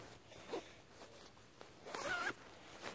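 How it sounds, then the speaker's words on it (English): The foot box zipper of a sleeping bag is pulled closed in a few quiet, close strokes, the last one longer and louder. "you have a zipper at the foot box, and the first thing you want to do is go ahead and zip that up."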